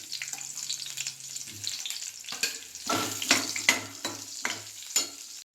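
Sliced onions hit hot oil in a pan for paneer gravy and begin to sizzle, with a few clanks and stirring scrapes of a spoon in the pan and a brief hum at the start, close up and without talk.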